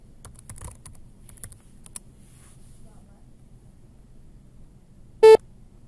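Username and password typed on a computer keyboard at a sign-on screen, a quick run of soft, light key taps followed by a short, sharp electronic beep.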